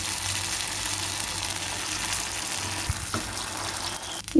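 Spicy kara paniyaram batter fries in a paniyaram pan, a continuous close sizzling hiss with a couple of metallic knocks near the end.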